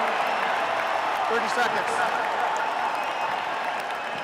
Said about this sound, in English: The Illini fans are applauding their team